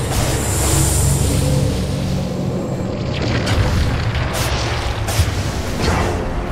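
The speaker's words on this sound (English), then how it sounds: "Dire's top tower has fallen." A Dire top tower collapses in a Dota 2 match, giving deep booming impacts and crumbling rumble. Loud repeated bursts with sharp cracks punctuate a dense, continuous battle din throughout.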